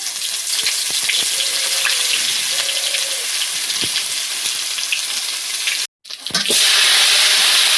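Whole cumin seeds and grated ginger frying in hot oil give a loud, close, continuous sizzle with a few scrapes, then a brief dropout before the sizzle surges back even louder.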